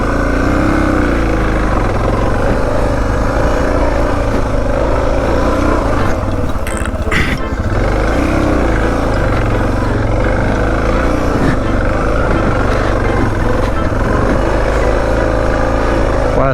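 Suzuki DR650 dual-sport motorcycle churning through deep sand, its single-cylinder engine droning loud and steady throughout with wind noise, revving and bogging slightly mid-ride.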